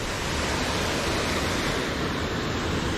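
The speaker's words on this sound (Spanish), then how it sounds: "Cascada y olla del César" The Cascada y olla del César in San Clemente, Córdoba, pours into a deep pool, a steady loud rushing roar of falling water that stays constant throughout.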